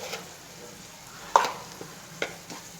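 A spoon stirs garam masala, chicken masala and pepper powder into a sautéed filling in a pan, giving a soft steady sizzle broken by a few sharp scraping clinks.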